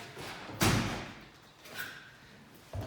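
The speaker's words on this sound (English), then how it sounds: "Now close that door." A rusted police station door is pushed shut with a single solid thud, followed by a faint scrape and a softer knock near the end.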